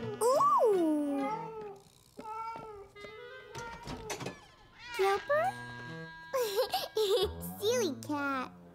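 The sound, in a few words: cat meowing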